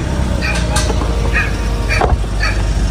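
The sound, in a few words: dogs barking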